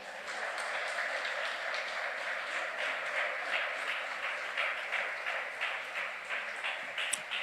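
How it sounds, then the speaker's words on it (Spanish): A church congregation applauds during a worship service, dense continuous clapping for several seconds at an even level, filling the room without voices over it. "Denle ese aplauso al Señor."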